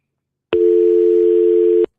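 A steady telephone line tone rings out on a radio call-in show, one loud, even note that starts abruptly, holds for just over a second and cuts off cleanly, with no voices.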